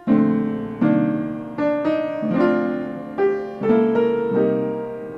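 Jazz piano chords in three-note compact voicings played one after another in a relaxed rhythm, each voicing ringing briefly before the next, with no talking.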